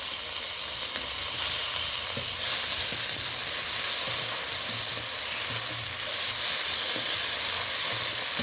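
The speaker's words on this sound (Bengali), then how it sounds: "গ্রেট করে রাখা পেঁয়াজটা দিয়ে দিলাম। কেটে রাখা টমেটোটা দিয়ে দিলাম।" Grated onion and chopped tomato sizzle in hot oil in a pan, making a loud, steady frying hiss with crackles and stirring scrapes that swell a little louder after a few seconds.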